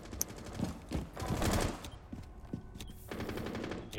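Rapid bursts of gunfire crackle in the video game Rainbow Six, fairly faint and distant, with clusters of sharp shots and a short rattling volley near the end.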